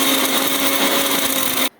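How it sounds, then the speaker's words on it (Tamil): Mixer grinder blending dal chutney with garlic cloves, a steady loud whirring grind running without pause, then cutting off abruptly near the end. "இப்போ இந்த பூண்டு பல்லையும் போட்டு நல்லா இன்னும் கொஞ்சம் நல்லா நைஸாக அரைச்சிட போகிறேன்"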